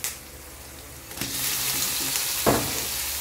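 Shrimp dropped into a pan with browned garlic and onion sets off a loud, steady sizzle that swells after a quiet start, with a brief stirring scrape partway through.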